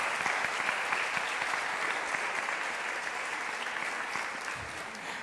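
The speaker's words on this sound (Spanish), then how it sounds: "Denle un aplauso al Señor, hermanos," A church congregation applauds during a sermon, steady dense clapping from many hands sustained at an even level, moderately distant and without pause.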